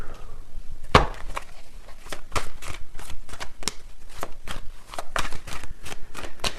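Tarot cards being shuffled by hand, a run of crisp riffling and tapping strokes repeating steadily and close up with no talking.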